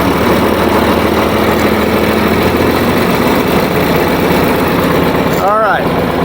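A John Deere 4020 tractor engine with a faulty three-point lift runs at a steady, loud idle, a continuous low chugging rumble, with a short voice breaking in near the end.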